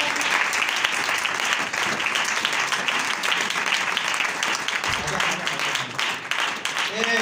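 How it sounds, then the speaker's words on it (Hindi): Steady, full audience applause at a church gathering fills the whole stretch, dense and continuous, with a faint voice briefly audible underneath. "तो मैं चाहूंगा कि आपकी भरपूर तालियों में सिताइश सामने आए।"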